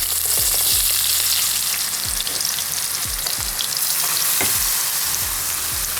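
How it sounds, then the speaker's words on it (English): Vegetables for borscht fry in plenty of hot oil. The loud, close sizzle and crackle is continuous, with regular low thuds and scrapes as a spoon stirs them. "The oil is already hot, so we're going to add the vegetables."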